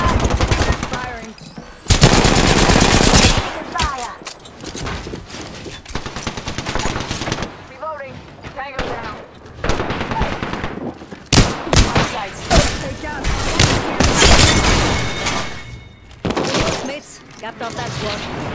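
Bursts of automatic gunfire and single shots from a video game shooter come in loud, irregular clusters with brief pauses between volleys, and a player talks over parts of the action.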